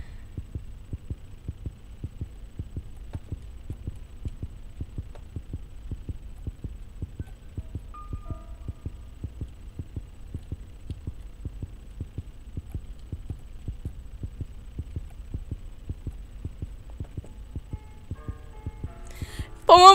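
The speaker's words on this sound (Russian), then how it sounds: "Что меня сильно смущает, то, что у меня сердцебиение резко такое стало." Steady rhythmic heartbeat from the horror video game Granny, a low muffled double thump repeating throughout at a quick, even pace, with a brief louder burst of other game sound at the very end.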